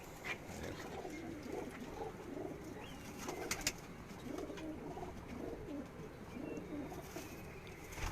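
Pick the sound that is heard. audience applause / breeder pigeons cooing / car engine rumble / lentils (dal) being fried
breeder pigeons cooing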